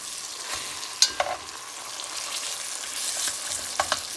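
Green tomatoes sizzle in a frying pan while a spatula breaks them into pieces, giving a steady close fry with sharp scraping clicks and taps against the pan.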